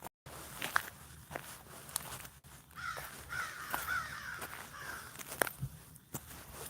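Footsteps crunch along an outdoor nature path at a steady walking pace, close and clear, while crows caw intermittently in the background.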